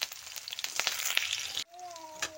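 Chopped onions hitting hot oil in a wok and frying with a steady, close sizzle, then cutting off abruptly as a lower hiss and faint tonal hum carry on.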